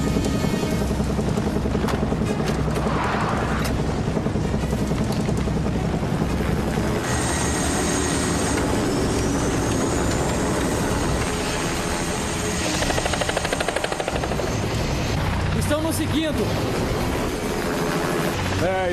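A helicopter taking off: loud, steady rotor thump and engine whine fill the whole stretch, rising in pitch midway as if powering up, with brief voices under it.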